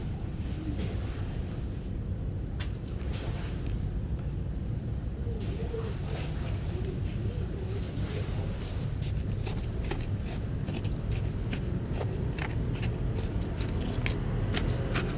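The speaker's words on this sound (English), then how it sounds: "listen to the ASMR sound of the scissors cutting through the grass and the dirt" Crisp snipping and crunching of scissors cutting through grass and dirt, repeated close to the mic over a steady windy rush, with no talking.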